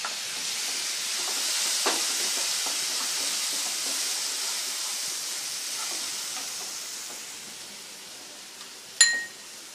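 Water splashed into a hot pan of chicken sets off a steady broad hiss that fades slowly over several seconds, ending with a sharp clink near the end.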